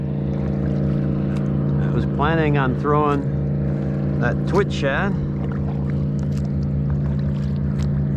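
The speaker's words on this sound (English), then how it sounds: "you can hear it, that airboat went ripping through the creek" An airboat speeds through a Florida backcountry creek near Yankeetown, a constant loud engine and propeller drone under a person speaking.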